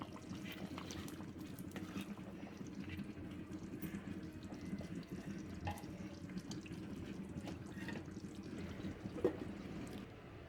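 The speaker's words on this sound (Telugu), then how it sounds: "ఇప్పుడు స్టవ్ ఆఫ్ చేసుకున్నా చూడండి ఎట్లా వస్తున్నాయో బబుల్స్." Village-style country chicken curry (naatukodi pulusu) keeps bubbling in a clay pot after the stove is switched off, a faint, continuous simmering fizz with small pops.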